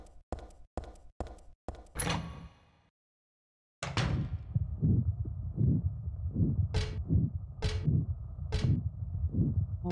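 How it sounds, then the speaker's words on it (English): In the Silent Hill 3 video game, a run of sharp knocks and a brief silence gives way to a low, muffled heartbeat thudding in a steady rhythm, with faint higher clicks over the pulses. "Oh my god, dude, that sounds like a heart."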